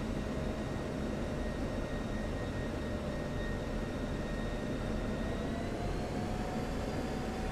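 F-16 fighter jet in the DCS flight simulator game, a steady, continuous engine roar with a faint high whine, droning evenly throughout with no voices.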